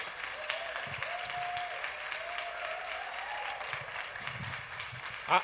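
A church congregation applauds a guest at a Sunday service, steady moderate clapping throughout with faint tonal sounds above it and a brief louder burst at the very end.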